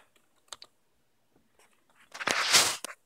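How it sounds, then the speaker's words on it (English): Keys tapped on a computer keyboard during an Arduino serial-monitor setup for an MPU-6050 gyroscope-accelerometer module, a few sparse close clicks followed by a louder rustling clatter, no talk. "You type in any key."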